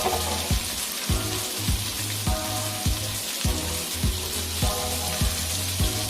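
Ground coriander, cumin, green chillies and coriander leaves fry in a pan for vegetable pilau, giving a steady crackling sizzle over a regular, repeating low thumping pulse.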